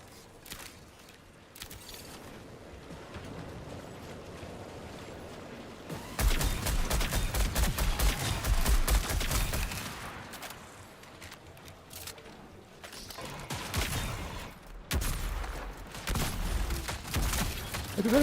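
Gunfire in the Marathon video game comes in rapid loud bursts of automatic shots, with a long sustained volley in the middle and more firing near the end, over background game noise.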